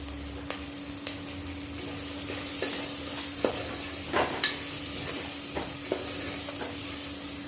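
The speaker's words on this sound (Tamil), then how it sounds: "வெங்காயம் வதங்க கொஞ்சம் உப்பு சேர்த்துக்கிடுவோம் வெங்காயம் நல்லா வதங்கிட்டு" Steady sizzling of onions sautéing with salt and curry leaves in a hot pan, with scattered clinks and scrapes of stirring, a low hum underneath.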